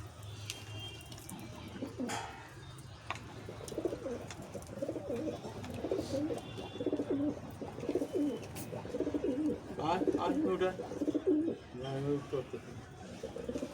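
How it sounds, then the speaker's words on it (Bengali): Pigeons, including a red one, cooing in soft repeated low calls close by, with a person talking over them for much of the time. "দেখুন জল খেতে চলে আসলো লাল পায়রাটা"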